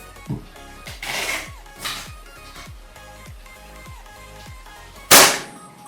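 Bocap Predator 500cc PCP air rifle in a grouping test, a sharp close crack of a shot near the end, preceded by a few lighter metallic clinks and thuds, with no talk.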